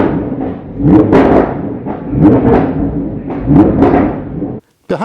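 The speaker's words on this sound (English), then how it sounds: "here we go, Lamborghini Huracan STO." A Lamborghini Huracan STO engine rising and falling in three loud revving surges, each swelling then easing back, with a brief silent gap near the end.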